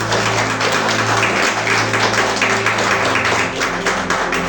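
A church congregation clapping together in rhythm, a dense steady patter of many hands close by, with a faint voice underneath.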